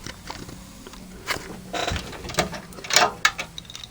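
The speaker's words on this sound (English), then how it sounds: "in order to take the front off to do that, you need to take off these little screws" Small screws being removed from the front of a budget computer case, giving a series of faint metallic clicks and ratcheting taps, close and alone with no talk.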